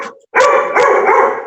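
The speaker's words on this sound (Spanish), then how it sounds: "Está ladrando mi perra." A pet female dog barks close and loud indoors, a short yip followed by two sharp barks in quick succession.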